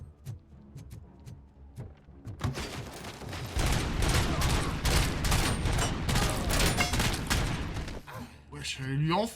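Dense RoboCop: Rogue City gunfire erupts into sustained rapid bursts after a few isolated shots, loud and continuous for several seconds before tapering off, with a voice talking in places.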